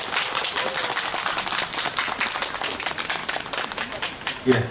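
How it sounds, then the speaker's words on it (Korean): Audience at a national poetry recital contest at a literary festival breaking into applause, a dense patter of clapping with voices mixed in underneath. "큰 박수로 시작하겠습니다."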